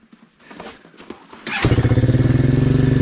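An engine at an off-grid hydro plant cranks with a few uneven bursts, then catches and settles into a loud, steady rhythmic idle that runs to the end.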